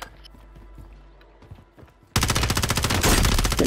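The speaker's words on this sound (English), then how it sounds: "Getting shot at from the right." Video game gunfire erupts suddenly after a quieter stretch of scattered thumps: dense, loud automatic bursts of rapid shots continuing to the end, close and without talk.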